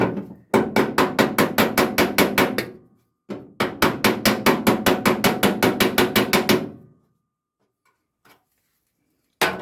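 Someone hammers Ford Escort MK1 bulkhead metal flat in two quick runs of about a dozen sharp, evenly spaced metallic blows, with a short pause between the runs. The blows are loud and close, and a single tap follows after a longer gap.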